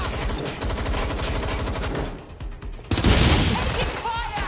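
Gunfire erupts in the video game Watch Dogs Legion, with rapid rhythmic automatic bursts that fade briefly and then hit louder near the end, close and dense. Voices talk over it.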